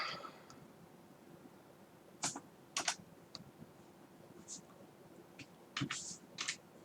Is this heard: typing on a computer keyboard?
yes